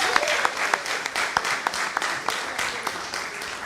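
Audience applause for school participants, including St. Andrew's RC School and St. George's Anglican Senior School, at a Rotaract Club of Grenada event; a steady round of clapping from a crowd fills the whole stretch, with sharp individual claps standing out.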